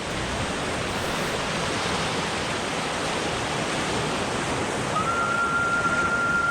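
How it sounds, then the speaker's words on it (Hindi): The Bhagirathi river rushes in full flow in the Himalayan headwaters of the Ganga, a steady, loud broadband roar of churning water with no pauses, and a faint thin tone joins near the end. "तो ये भागीरथी नदी आ रही है पूरे उफान में।"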